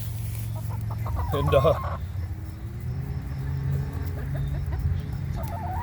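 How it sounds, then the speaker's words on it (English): Chickens cluck softly in a backyard food forest, a brief burst of clucking near the start and quieter calls later, under steady rumble with a voice nearby. "come sit next to the chickens, say hi to Lucy"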